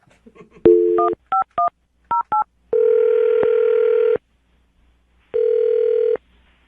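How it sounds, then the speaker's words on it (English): A telephone handset gives a string of short two-tone keypad beeps in quick pairs, then a long steady ringback tone, a pause, and a second long tone, loud and clear with no talk. "I'm going to dial her phone number right now, get her on the phone"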